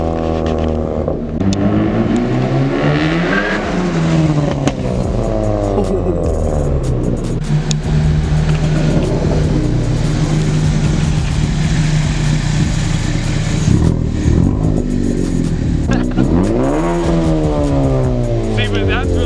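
A Ford Focus ST engine revs up and down repeatedly, its pitch rising and falling in sweeping bursts, loud and close, with voices underneath.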